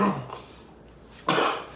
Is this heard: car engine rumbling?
no